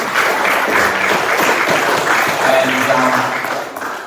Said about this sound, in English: I'd like to make a great round of applause for Megan and for Jess